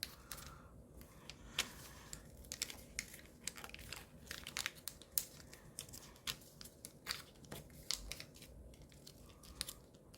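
Paper being folded for an origami ninja spinning top, with steady close crinkling, creasing and sharp rustles throughout.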